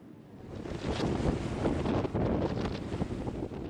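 Strong wind gusting over rough, high waves at sea off Sulawesi during extreme weather, a loud, continuous roar with buffeting wind noise on the microphone throughout, no voices.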